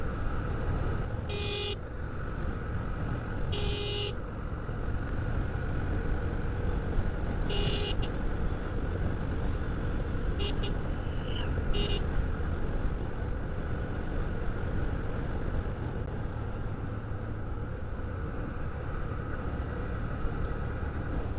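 A Honda SP125 motorcycle rides along a road through traffic, with a steady engine and road roar throughout, wind rush, and several short horn toots from nearby vehicles.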